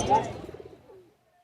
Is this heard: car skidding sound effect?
no